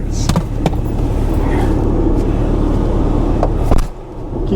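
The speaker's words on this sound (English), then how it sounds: "Alright, we're going to drive this up the street." A truck on Falken Wildpeak all-terrain tires drives up a street, giving a steady, loud low rumble of engine and tire roar with a few brief knocks and thumps.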